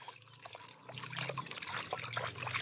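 Water sloshes and trickles as it is stirred by hand in a small basin of bathing water for a chick on a backyard poultry farm, with a steady close wet swishing and no voices.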